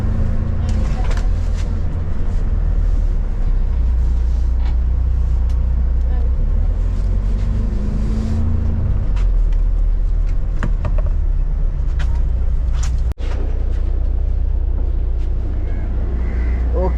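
A busy bus stand in Kerala carries a steady rumble of buses and road traffic, with engine hum, horns and passing vehicles throughout and people talking nearby over the noise.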